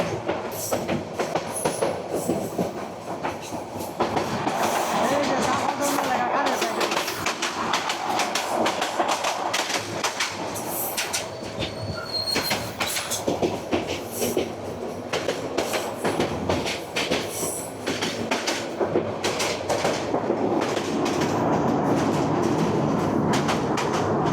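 Mahanagar Provati intercity train running from Dhaka toward Chattogram, its steady loud rumble and clickety-clack of wheels on rail continuing throughout with dense rattling carriage noise.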